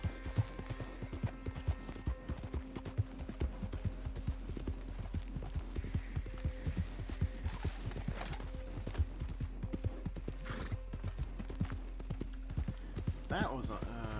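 A horse clip-clops steadily in an open-world Western game set around Saint Denis, with quick, evenly spaced hoofbeats at close range, a faint low hum underneath and brief game sounds near the end.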